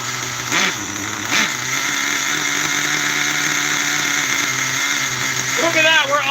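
An engine running rich during break-in idles with a steady droning hum, a couple of brief revs rising early on and another at the end, loud and close.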